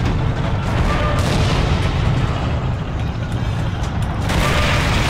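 Dense, loud gunfire and booming blasts fill a Forgotten Hope 2 battle at the Siege of Tobruk, a continuous roar of shots and explosions with no pause.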